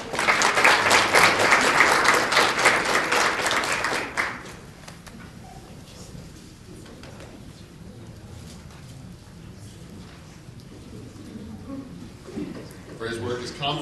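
Loud audience applause at a conference awards introduction fills the first few seconds, many hands clapping together, then it stops abruptly and a quieter room with a speaking voice follows.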